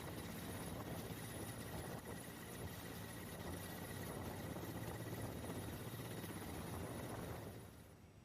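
Mi-17 helicopter flying during an airlift of stranded pilgrims in difficult weather, a dense continuous rotor and engine roar, steady and loud throughout before easing slightly at the end; no talking.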